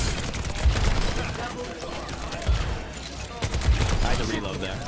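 Rapid bursts of gunfire in the video game Overwatch, including Helix rocket bursts, with repeated clusters of shots and impacts in a busy mix of game effects and talk.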